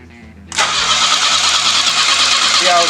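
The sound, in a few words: 1969 Volvo engine cranking after fuel pump and carburetor fix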